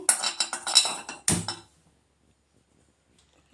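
A metal kadai is set down on a kitchen stove with a quick series of close, bright metallic clinks and one heavier clank, then silence.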